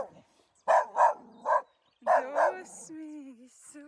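Dogs bark close by in a quick run of sharp barks, followed by higher yips and whimpering whines that trail off.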